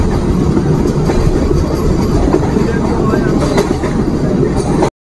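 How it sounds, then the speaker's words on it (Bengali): A Malda Town–Sahibganj MEMU passenger train crossing the Farakka Barrage, with a loud, continuous rumble and rhythmic wheel clatter throughout, heard from on board. "মালদা টাউন সাহেবগঞ্জ মেমু পার করছে ফারাক্কা ব্যারেজ"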